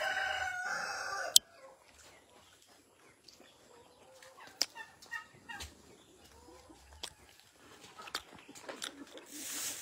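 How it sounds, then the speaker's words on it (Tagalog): A rooster crows loudly at the start, then chickens cluck and call intermittently around a rural farm, with scattered handling sounds and a quiet, sparse background. "Nasa bukid po kami. Magkuha kami ng manok."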